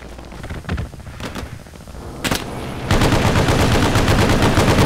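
Bren light machine gun fire in the Hell Let Loose war game: a few scattered shots and distant blasts, then a loud, sustained automatic burst of rapid rounds to the end, with no voices.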